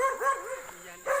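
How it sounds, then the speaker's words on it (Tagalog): A dog barks in short yelping bursts on a mountain trail, close and loud, with a person's voice mixed in. "Yan, ang tapang na aso yan."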